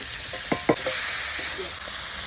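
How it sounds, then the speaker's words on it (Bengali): Prawns dropped into a hot pan, a couple of quick clatters followed by a loud, steady sizzling hiss of frying that cuts off near the end. "চিংড়ি মাছটা দিয়ে দিলাম"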